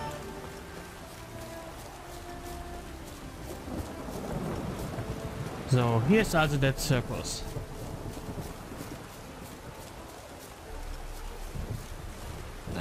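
A rain and thunder storm in The Witcher 3: Hearts of Stone, with steady hissing rainfall and a swelling rumble near the middle, heard under a man's speech in German.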